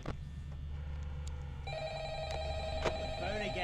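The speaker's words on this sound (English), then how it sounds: "The phone again." A phone rings in Five Nights at Freddy's, repeated trilling bell tones entering partway through over a steady low hum and background noise.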